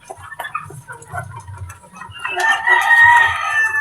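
A rooster on a backyard poultry farm clucks in short low calls, then lets out a loud, drawn-out crow near the end, close and clear.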